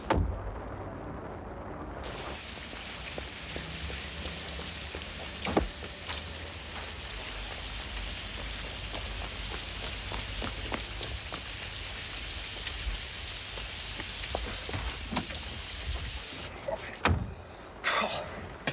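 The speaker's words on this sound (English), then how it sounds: "Pissing rain must be coming from Soviet Russia" Heavy rain pours steadily for the whole stretch, a dense continuous hiss with a few scattered knocks and thuds.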